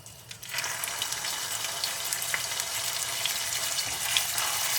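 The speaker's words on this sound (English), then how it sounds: "let's get these luscious vegan steaks and shove them sizzling in the pan" Vegan steaks hit a hot frying pan and sizzle loudly, a crackling hiss that continues steadily after the initial contact.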